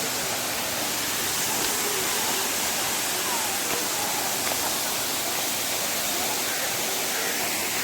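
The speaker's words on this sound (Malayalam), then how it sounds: "നല്ല അടിപൊളി വെള്ളച്ചാട്ടം" A waterfall roars in a steady, dense wash of falling water, loud and unbroken from start to finish with no break in the rush.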